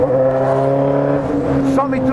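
A Kawasaki KLE621 motorcycle engine with a full Hornet exhaust drones at a steady pitch with a strong buzzing hum, holding close and loud for a couple of seconds before shifting slightly near the end.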